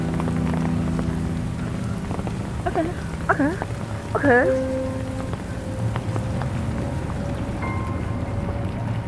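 Steady rain pours on surfaces outdoors on a gray day, a dense continuous hiss with a brief spoken word and a few faint chirps over it.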